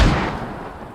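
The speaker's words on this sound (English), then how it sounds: "That's some fantastic mortaring right there." A mortar round impacts in the tactical shooter Squad, a single heavy boom with a deep rumbling tail that fades over about a second, heard alone.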